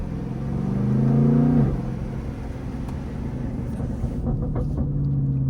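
A Dodge Trackhawk engine heard loud and close from inside the car, climbing in a brief rev that peaks then drops sharply, settling into a steady deep rumble with a few faint crackles.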